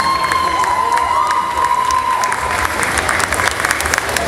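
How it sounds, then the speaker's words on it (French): Steady crowd applause with scattered cheers fills the room at a cosplay contest results announcement, a sustained dense clatter of clapping at full volume throughout. "Veuillez applaudir Banika Conchita de Evil Youth Chronicles."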